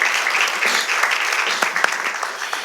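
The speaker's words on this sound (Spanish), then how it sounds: "Por favor, un aplauso para él." An audience at a university book club talk applauds a guest, a dense, continuous patter of clapping from many hands that lasts a few seconds.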